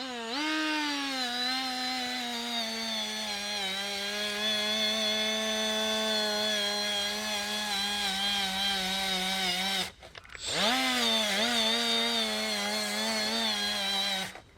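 A Milwaukee M12 die grinder fitted with a wire wheel whines at a high, steady pitch, close and loud, dropping out briefly and spinning back up before running on.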